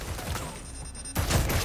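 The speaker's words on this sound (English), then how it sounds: "Ow. Jeez, what's shooting at me?" Gunfire in the video game Resident Evil 4 Remake, heard as a burst of shots that drops away into a quieter stretch and then returns louder for a short, dense volley.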